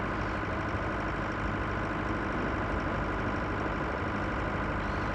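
A tractor engine in the farming game Pure Farming 2018 drones at a steady low idle, with a constant dense rumble and no change in pitch, and no voices.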